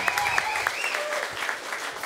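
A studio audience on a political talk show claps for Labour MP Damien O'Connor, a brief, fairly soft round of applause with a few sharper claps standing out, under faint background voices.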